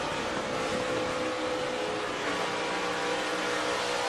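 A NASCAR race car engine drones steadily and loudly, with a slight dip as the driver lifts off the throttle before the roar settles back, heard amid dense broadband track noise.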